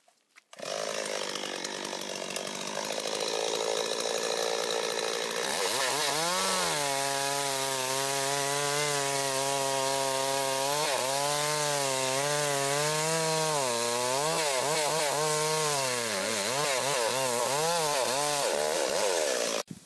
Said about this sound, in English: Jack's about to perform the second demonstration, being the scarfing of a tree.